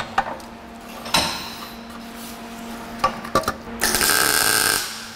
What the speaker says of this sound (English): Plan is to just tack it in place for now.